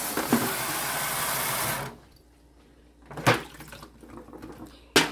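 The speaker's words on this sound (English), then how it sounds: "I have to rinse my tray." A tray is rinsed under a running kitchen tap while making a creamy cheesy camote dessert; a steady close stream for about two seconds, then quiet with a few brief splashes and clunks.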